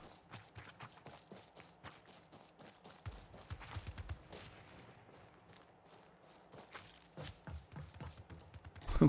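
Video game Marathon gunfire crackles in quick bursts and scattered shots, moderately distant and uneven in rhythm, with a louder flurry building at the very end.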